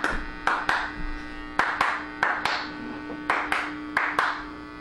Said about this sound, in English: just have people clap along